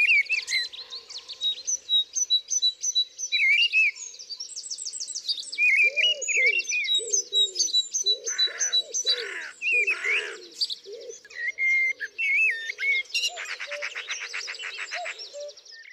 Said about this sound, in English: birdsong is the soundtrack to my gardening